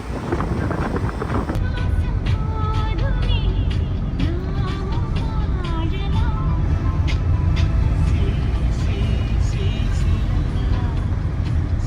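A car drives a mountain road in Sri Lanka with a constant loud road and wind rumble, while voices and some higher tonal sounds run over the noise.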